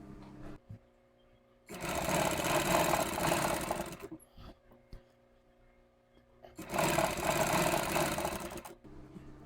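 An electric sewing machine stitches a fine edge seam to attach piping on a net blouse back neck, running in two steady, whirring bursts of a couple of seconds each with a pause between.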